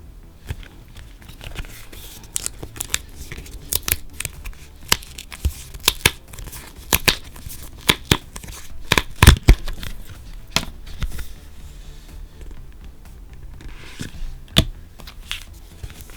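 Paper Monsta X Fatal Love photocards being cut out by hand, with scattered sharp snips and crisp crinkling rustles coming close and loud in an irregular rhythm, and no talk.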